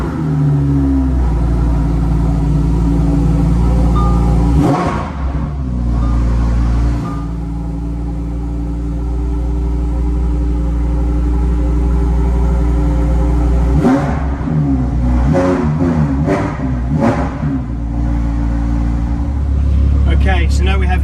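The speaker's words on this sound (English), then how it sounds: "Okay, so now we have the engine running." Lamborghini Huracan STO V10 engine fires up loud and close, settling into a deep idle and then blipping through several sharp revs near the end; a voice talks over the engine for much of the time.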